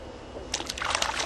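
Small brook trout flipped back into the water: a quiet background hiss, then at the midpoint a brief burst of splashing and sloshing water close by.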